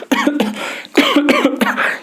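A person coughs hard and close, in two loud clusters of repeated voiced coughs separated by a brief pause.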